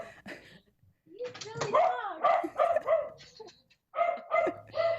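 A house dog barking in the background of a talk show call, a series of several loud barks in quick succession with a voice speaking among them.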